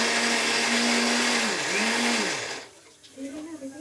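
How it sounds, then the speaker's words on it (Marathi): A mixer grinder whirs loudly while grinding masala paste for a home-style mutton curry, its motor pitch dipping and rising twice before it stops, then a brief softer restart. "आता वाटण करणार आहे"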